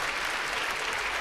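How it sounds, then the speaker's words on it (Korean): A brief burst of dense applause from a worship concert crowd welcoming a singer to the stage, a full, even wash of clapping with no voices. "박수 부탁드립니다."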